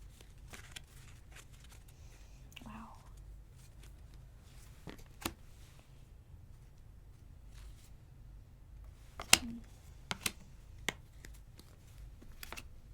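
Tarot cards being shuffled by hand in scattered bursts of soft riffling and sharp slaps, quiet and close, with sharper snaps around the middle and later.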